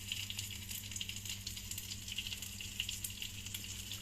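A roach fish frying in a pan gives a steady, close hiss and sizzle that runs unbroken throughout, with no talk.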